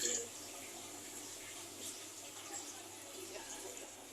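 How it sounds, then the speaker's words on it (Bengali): Water runs steadily from a tap while dishes are washed in a home kitchen, a soft continuous splash with faint clinks, fairly quiet throughout. "থালা বাসন ধুচ্ছে"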